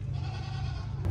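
A dairy goat bleats at the Montana State Fair: a steady, low, drawn-out call that holds for about a second over fairground background noise.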